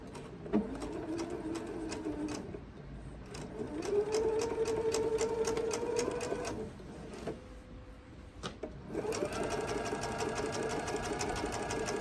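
A sewing machine stitches quilt binding along a diagonal line in three sustained whirring runs separated by short pauses, close and clear with no talking.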